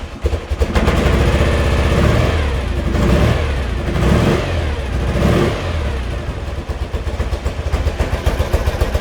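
A 1975 BMW R90S motorcycle engine running with the choke on and revving, loud and close, with rising and falling surges of throttle over a steady low rumble throughout.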